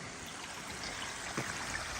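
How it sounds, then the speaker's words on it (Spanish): Stormwater running down a forest slope in the Pyrenees, a steady soft rushing and trickling wash with no clear breaks, faint and continuous. "Por aquí también baja agua."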